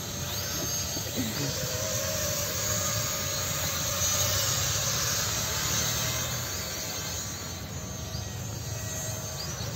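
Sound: small hand gesture control RC drone flying and landing

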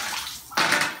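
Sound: shower water running

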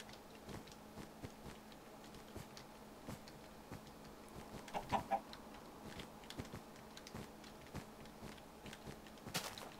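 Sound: chicken clucking in the video game Minecraft

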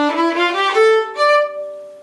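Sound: Bach double concerto opening notes on violin

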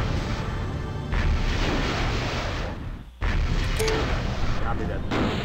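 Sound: enemy fire hitting mech in MechCommander video game

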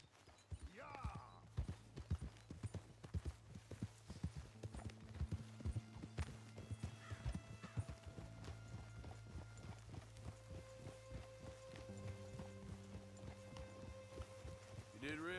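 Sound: white horse hooves clip-clopping in video game Red Dead Redemption 2

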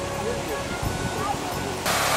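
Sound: fountain water splashing, Muschelbrunnen at Belvedere garden

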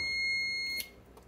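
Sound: multimeter beeping as it turns off

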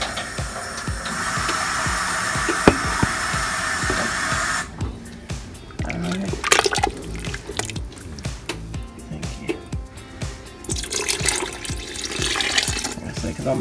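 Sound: water being added to chicken and dumplings soup

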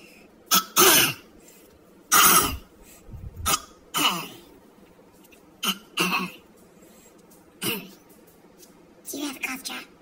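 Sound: person coughing in a movie theater

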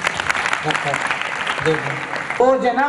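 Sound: audience clapping

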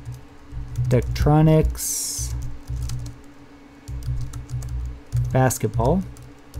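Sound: typing on a computer keyboard

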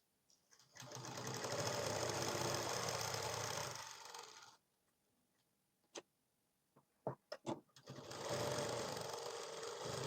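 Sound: sewing machine stitching blouse side seam

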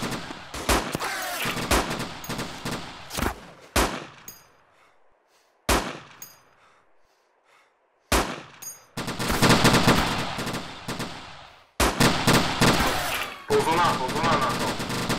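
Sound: machine gun fire in video game Iron Front

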